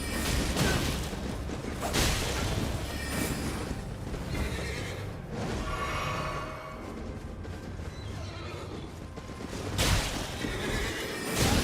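A horse neighs and whinnies in Elden Ring, loud, close cries repeating in bursts over about twelve seconds, with whooshing movement and hoof sounds mixed in, and no talking.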